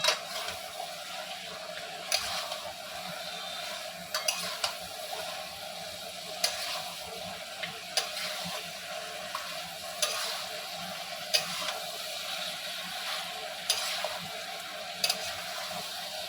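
Fish bones frying in a hot pan for a Bengali Malabar spinach dish, a constant soft sizzle broken by a sharp stirring scrape every second or two, fairly quiet and close, with no talking.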